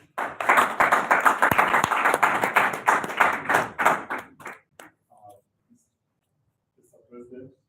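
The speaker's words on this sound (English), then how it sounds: "So snap, clap as our guest takes the stage." Audience clapping and finger snapping at an evening Rotary networking event as a guest speaker takes the stage; dense, loud applause for about four seconds, then thinning to scattered claps before a voice begins.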